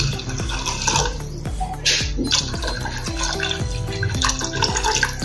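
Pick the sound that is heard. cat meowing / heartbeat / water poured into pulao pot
water poured into pulao pot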